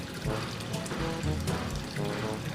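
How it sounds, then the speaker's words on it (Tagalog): Water pouring and splashing during a koi and goldfish pond water change, a continuous bubbling rush close by, fairly loud with no talking. "pag nagwa-water change ka or nagbababa ka ng level ng tubig."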